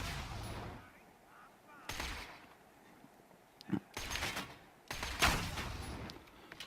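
Maliwan Snider sniper rifle fired in a video game, several sharp cracks spaced a second or so apart, each with a short tail, over faint background game ambience.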